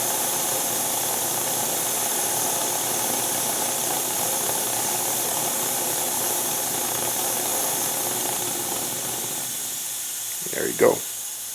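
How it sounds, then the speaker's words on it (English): An MSR Whisperlite camping stove's fuel tank depressurizes with a steady, even hiss that runs the whole time, then a couple of brief clicks and a short spoken remark close by near the end. "all it's doing right now is depressurizing the tanks"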